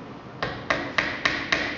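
Five light hammer taps gently driving hinge pins into a box, at a steady, even pace, close by and fairly quiet, with no voices.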